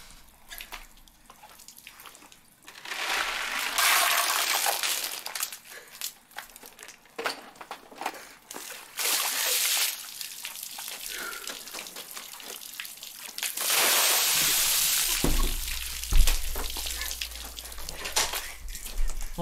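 Ice water from a bucket splashes and pours in bursts during an Ice Bucket Challenge, with rushing, crinkling water noise that comes and goes in loud surges between quieter gaps, close to the microphone.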